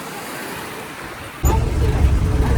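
Sea surf on a bay beach in Crete, a steady soft wash that turns louder and fuller halfway through as a wave breaks nearby, continuing as a broad rushing roar.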